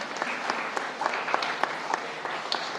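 Students at a college debate event in Chennai receive applause from the audience: lively crowd clapping with crisp individual hand claps standing out against a continuous, moderately loud patter.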